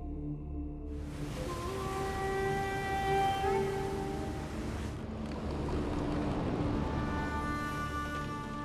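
An expedition ship casting off and sailing toward Antarctica's Dumont d'Urville station, giving a loud steady rumble of engine and water with a sustained horn-like hum and wind noise rising after a quiet start.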